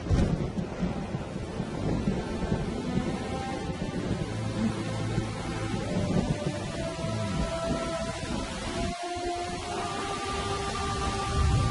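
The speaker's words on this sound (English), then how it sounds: "The first rain for 8 months." Rain pours steadily on the African savanna, the first in eight months, with low rumbling thunder rolling beneath the constant hiss.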